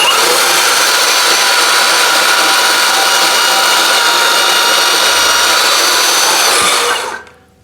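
VEVOR 20V portable band saw cutting at speed setting 6, a steady loud whining buzz of blade through metal held for about seven seconds before it cuts off abruptly, no voices.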